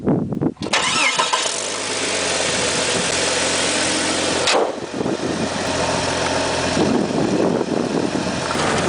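A car engine runs steadily while driving home, with a tin of beans heating on the engine block. A loud, continuous engine drone and road rumble fill the whole stretch, close and unbroken, with no talking.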